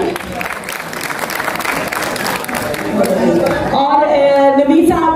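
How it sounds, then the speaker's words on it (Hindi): An audience at the Rawalpindi Arts Council claps steadily for several seconds, a dense patter of many hands, before a voice talks over the fading applause. "इसके लिए भी ताली बजा दें"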